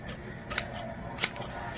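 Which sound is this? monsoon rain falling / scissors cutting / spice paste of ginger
scissors cutting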